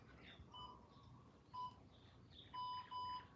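An interval timer gives short electronic beeps near 1 kHz, one at about 0.6 s, one at 1.6 s and a pair around 2.6 to 3.1 s, with a quiet room behind them during a strength training session.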